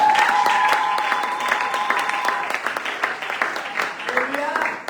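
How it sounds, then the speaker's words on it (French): A congregation at a French-language church worship service cheers and applauds loudly, with dense steady clapping and raised voices filling the whole stretch, plus some tonal sounds running through it. "Est-ce qu'on peut acclamer très fort?"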